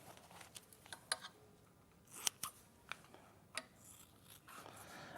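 Scissors snip through material in a papercraft demonstration, with several crisp, irregular cuts, some sharper and louder than others, close by and without talk.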